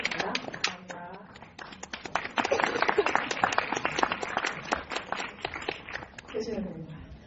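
Applause and scattered clapping from a screening audience at a short-film GV event, honoring the director and actors; dense, continuous hand claps rise and hold steady, with talking over the top near the end.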